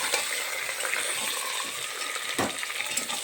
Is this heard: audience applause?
no